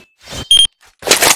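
A planted bomb in the video game CrossFire lets out one short, sharp electronic beep, set among brief bursts of other game noise.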